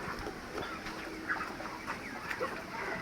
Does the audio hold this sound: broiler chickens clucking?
yes